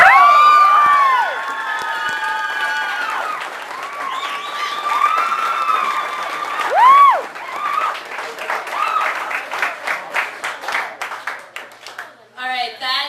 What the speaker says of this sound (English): So I'd really like to hear you guys applaud for him again